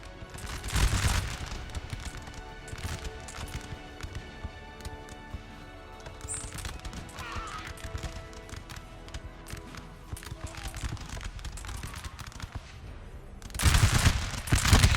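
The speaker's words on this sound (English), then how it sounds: "These guys here look to be shooting at the French forces down here." Musket volleys from Napoleon Total War, with dense crackling fusillades bursting loudly at the start and again near the end, and scattered shots continuing through the middle over battlefield noise.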